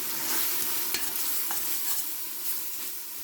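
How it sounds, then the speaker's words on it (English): Biryani spice mix fries in a pan for spicy lamb biryani, with a steady close sizzle and soft scraping stir strokes throughout. "I'm going to lower your stove a little bit so the spices doesn't burn. And let it fry for a few minutes as you would curry."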